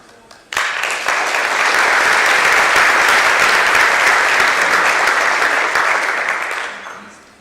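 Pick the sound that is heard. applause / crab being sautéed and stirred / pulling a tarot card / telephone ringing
applause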